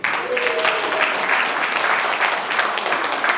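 Dense, steady audience applause fills a Korean leadership event hall, a continuous wash of many hands clapping at close range with no talk over it.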